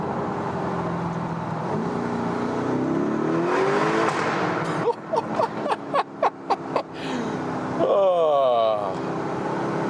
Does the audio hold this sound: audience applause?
no